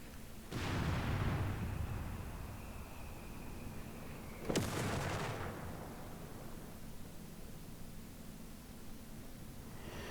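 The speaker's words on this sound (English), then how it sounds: "I've asked the mortar just to concentrate on him." Mortar fire in the video game Company of Heroes 3, two separate heavy blasts a few seconds apart, each a sharp crack fading into a rumbling tail, fairly quiet overall with no talking.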